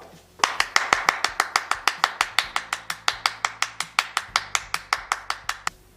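Children's congregation at a worship service clapping for a friend's birthday, the whole group striking in unison in a steady, brisk rhythm of about four claps per second, loud and close, with no voices over it.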